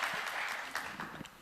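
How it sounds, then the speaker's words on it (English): A brief burst of audience applause at a humanitarian panel discussion, with light scattered clapping filling the moment before the next question. "you get a little round of applause there for someone in the audience, Muruti."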